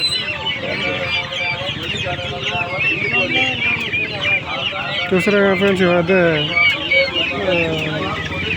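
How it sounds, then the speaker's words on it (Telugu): Many chickens, black in colour, cluck and squawk in a busy, overlapping chorus close by, while someone talks over them. "నల్ల కలరు కోళ్ళు ఇవి"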